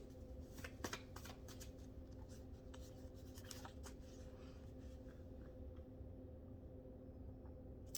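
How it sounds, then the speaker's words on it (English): A tarot card is drawn from a deck during a card reading: faint, close papery flicks and slides of cards in a brief cluster, then quiet handling over a steady low hum, with no voice. "I'm going to pull one more card to kind of wrap up this section of the reading"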